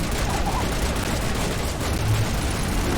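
Automated turret gunfire in Mass Effect rattles in a continuous, dense volley, with a player voice briefly present amid the steady barrage.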